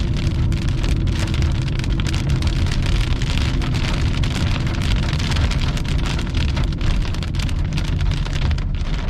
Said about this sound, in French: les rideaux de je sais pas trop quoi, de grêle ou de pluie est direct à ma droite